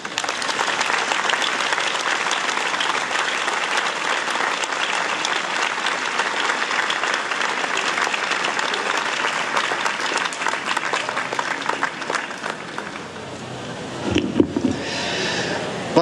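Sustained crowd applause at an evening rally for freedom in Gràcia, a broad wash of clapping that runs evenly for over ten seconds before thinning out, with a few louder knocks near the end.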